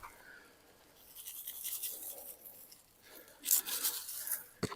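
Soft scraping and rubbing as garden fertilizer and ground eggshells are worked into dirt by hand, close and fairly quiet, with a brief louder burst of gritty rasping near the end.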